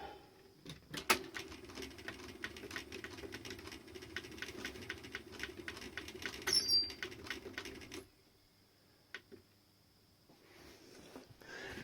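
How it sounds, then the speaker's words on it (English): A low, steady rumbling and chattering from the moving heads of a Philips VR2022 Video 2000 cassette player under restoration, running continuously for about eight seconds, then dropping to near silence apart from a faint click. "That rumbling is one of these heads moving here."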